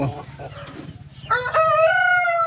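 A loud rooster crows close by, one long drawn-out call following a few low clucks and faint voices.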